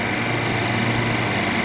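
A repaired 30 HP refrigeration compressor running at -20 degrees produces a loud, steady mechanical drone with a constant high whine, with no talking.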